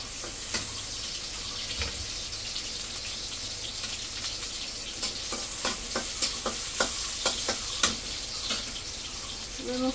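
Rice stir-frying with garlic in oil, a continuous close sizzle under repeated sharp spatula scrapes and clacks against the pan, growing more frequent toward the end.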